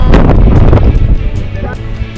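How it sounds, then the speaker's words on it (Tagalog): Strong mountain wind at a campsite on Mount Apo in the Philippines buffets the microphone in loud gusts that ease slightly toward the end, with faint voices underneath. "Malakas ang hangin."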